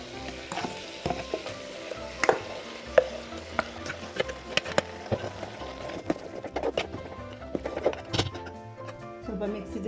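Ground spicy masala paste sizzling and being stirred in a pan for a vegetable sambar, with scattered scraping clinks of a spoon over a continuous frying hiss, close and moderately loud.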